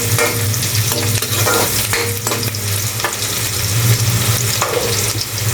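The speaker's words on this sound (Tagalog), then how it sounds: "nasuti ko na yung onion at saka garlic" Onion and garlic sautéing in a pan for chicken adobo, a dense steady sizzle with scraping stirring strokes throughout, close and loud with no talking.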